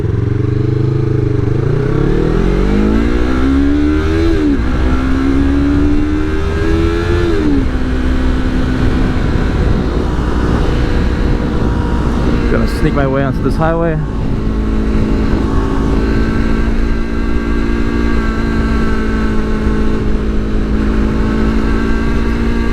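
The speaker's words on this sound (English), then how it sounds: "we can see how she sounds on the highway" Yamaha R3 motorcycle with an Akrapovic slip-on exhaust riding onto a highway, loud and close, rising through gears with revving sweeps and a steady high drone, someone briefly talking over it.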